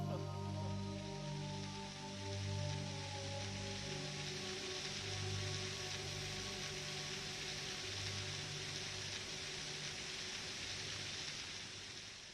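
Blood rains down in the Killer7 video game, a steady rain-like patter and hiss that holds at an even level throughout, with sustained low musical tones underneath and no other break.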